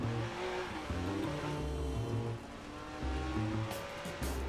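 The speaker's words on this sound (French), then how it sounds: "On va se quitter en conduisant une Lamborghini à la place du chauffeur." A Lamborghini driven in the video game Watch Dogs, its engine humming and revving in shifting tones, with the sound of surf in the background.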